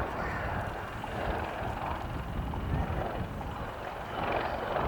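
Westland Wildcat military helicopter, once called the Lynx Wildcat, flying a display at RAF Cosford Air Show, a steady broad rumble with wind buffeting, moderately distant and continuous.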